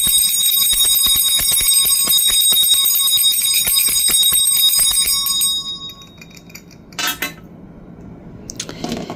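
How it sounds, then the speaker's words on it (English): A bell rung repeatedly in a quick, bright ringing run lasting about five seconds, loud and close, then cutting off into near silence with a couple of faint knocks afterward. "Let me ring the bell."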